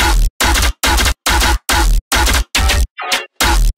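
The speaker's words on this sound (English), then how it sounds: "Together, basses sound like this." Aggressive layered dubstep bass with sub bass plays alone as loud, dense, distorted blocks chopped into a steady rhythm, with one short pitch-bending wobble near the end.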